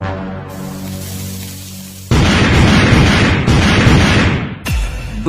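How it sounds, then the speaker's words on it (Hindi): Firecrackers go off loudly at close range: one sharp blast is followed by a sustained crackling roar, then a second sudden bang. "अभी भी कुछ पटाखे बचे हुए हैं, मैं फिर से ट्राई करता हूँ।"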